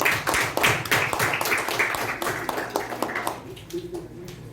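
Scattered clapping from an audience at a youth leadership program event, as a youth leader is welcomed to the podium; the claps are dense at first, then thin out and fade under background room noise.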